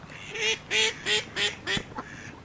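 A dog lets out five honking, quacking squeals in a quick regular series, then a short grunt, sounding like a cross between a duck and a pig.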